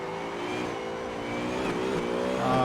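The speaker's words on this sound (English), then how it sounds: "You can hear the revs." Simulated car engine revving hard while drifting in Assetto Corsa, played on a Thrustmaster TX wheel sim rig; a continuous high engine drone with shifting revs that swells louder toward the end, heard alone.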